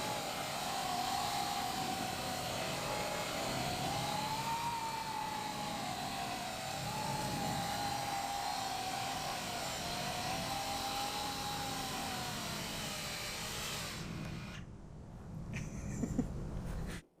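A Coanda-effect drone flying at about half throttle gives a steady motor whine with a wavering tone. It sounds close and fairly loud and runs continuously before cutting off near the end.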